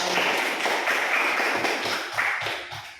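Brief, dense clapping from a class group closes a teacher's academic supervision session, a quick burst of many hands that holds steady, then fades away with no talking.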